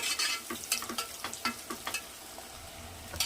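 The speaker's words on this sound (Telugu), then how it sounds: "ఈ ఆనియన్ బాగా గోల్డెన్ బ్రౌన్ కలర్ వేయించాలండి." Onions frying toward golden brown in a pan for mutton biryani, stirred now and then, with a series of irregular scraping strokes over a soft, steady sizzle; no one speaks.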